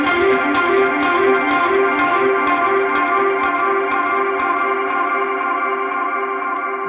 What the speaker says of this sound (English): using my Echo Park delay, which is a tap tempo